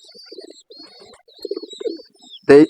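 Thin, high-pitched peeping from a lakkha pigeon chick repeats across the moment, with soft murmuring in the background and a sharp loud bump at the very end.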